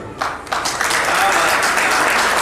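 Audience applause after a Hindi poem recital, a dense steady wash of clapping that rises after a brief start and holds loud and even, with no voice over it.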